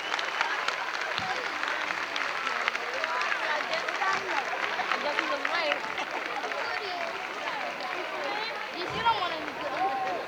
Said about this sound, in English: can we have one more wonderful round of applause for our children?